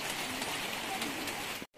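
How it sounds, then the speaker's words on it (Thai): Rain falling steadily at a hillside elephant farm cafe in Chiang Mai, a dense, even hiss of drops on surfaces that cuts off abruptly at the very end. "ฝนตกอีกแล้วจ้าเมื่อกี้มันหยุดไปหน่อยนึงแล้วก็ตกอีกแล้วนะคะ"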